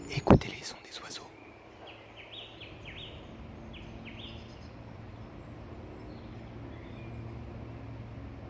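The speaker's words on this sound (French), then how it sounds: "Écoutez les sons des oiseaux." After a brief close handling noise and a whisper, birds in the Alps chirp and whistle in short repeated phrases at a moderate distance over a low steady hum.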